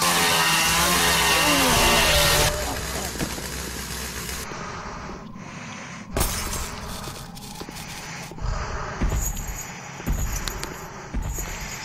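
The chainsaw maniac's saw in the game Airtight City snarls loudly for the first couple of seconds, then gives way to quieter clanks, thuds and scattered noises.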